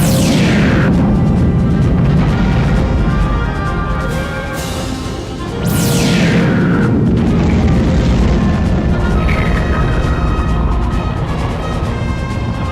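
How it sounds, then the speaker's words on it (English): The Great Fox spaceship explodes in the video game Star Fox Assault, a sustained roaring blast with deep rumbling booms and descending whooshes that continue loudly for the whole stretch. "Peppy and Rob ram the Great Fox into the shield and open it long enough for the team to get through before it explodes"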